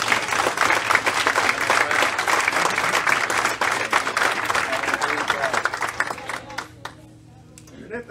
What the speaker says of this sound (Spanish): ¿Alguien le puede dar un aplauso?